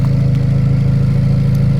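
A Honda S2000 idles while parked, a steady, loud, low engine rumble with an even pulse and no revving, heard alone close to the car.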